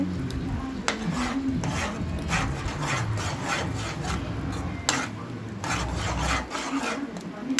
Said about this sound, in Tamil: இந்த மாதிரி கைவிடாமல் நீங்கள் கிண்டிகிட்டே இருக்கணும்.